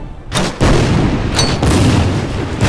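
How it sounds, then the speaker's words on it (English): Mortar fire in the WWII strategy game Order of Battle: Panzerkrieg lands as a loud, close boom that swells into a sustained rumbling roar lasting a couple of seconds, with no talking. "we can go ahead and use our mortars here on the enemy unit"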